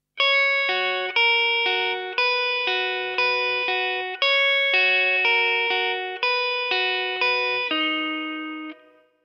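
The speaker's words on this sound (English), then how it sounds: "So together, the two bars sound like this." An electric guitar plays a riff through effects: a clean, bright run of evenly spaced picked notes that ring into each other, played alone without any voice.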